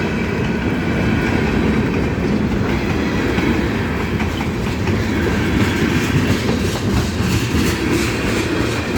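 Up close, a mixed freight train passes a railroad crossing with heavy rolling rumble and rhythmic clickety-clack of wagons over the joints, loud and sustained, a low engine drone beneath, no talking.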